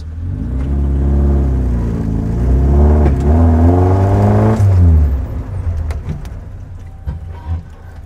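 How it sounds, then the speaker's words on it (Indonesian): Modified 1982 Suzuki Jimny engine running close by, a loud steady rumble that revs up and down in pitch a few times before settling back to idle, with faint background sounds near the end. "suara mesinnya juga sangat bagus"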